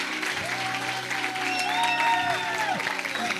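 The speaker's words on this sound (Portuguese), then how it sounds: "Aplauda o Senhor." A church congregation clapping at the close of a prayer during a youth service, a steady spread of applause beneath sustained keyboard tones and a voice bending upward over it.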